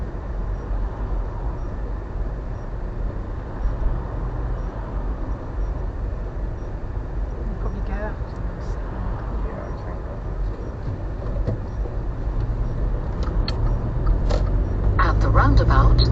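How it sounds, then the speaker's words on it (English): Cars passing on a road as picked up from inside a vehicle by a Vantrue Element 1 E1 mini dash cam, a steady low road rumble with a brief whoosh near the end. "More cars coming."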